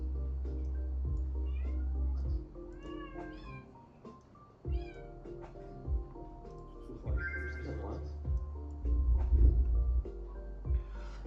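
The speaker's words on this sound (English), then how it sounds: "Now drag those cats together and merge them." Virtual cats in the Horizon Worlds VR game meow repeatedly while being dragged together and merged, giving a string of short, overlapping cries over a low steady background hum.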